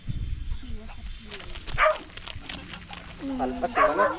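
A dog barks and yips in a few short bursts at a backyard mulberry harvest, close by, while people talk over it.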